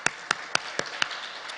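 A few slow, evenly spaced claps ring out at an awards ceremony, roughly six sharp hand strikes in a quiet room, each distinct and fairly close.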